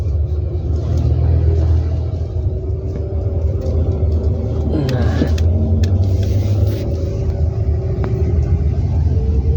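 A manual car engine pulling away in first gear, a low steady rumble and idle drone with a slight rise in revs, heard from inside the car with a voice talking faintly.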